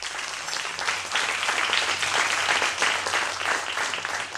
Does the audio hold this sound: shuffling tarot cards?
no